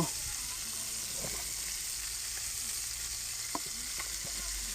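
Biryani being stirred and turned over in a pot, a steady sizzle with scattered scraping knocks of the spoon against the metal, close and continuous with no talking.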